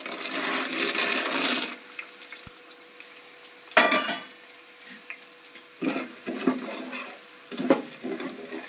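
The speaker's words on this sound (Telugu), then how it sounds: "పల్లీలు ఫ్రై కావాలి" Peanuts fry in oil in a pan with onions, bursts of sizzling alternating with scraping stirs and clatter, loud at first and then in short separated pulses.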